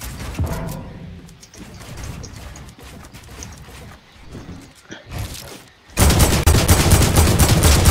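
Gunshots in the video game Fortnite, a rapid series of loud cracks and bursts of gunfire, ending in a dense sustained barrage, close and harsh.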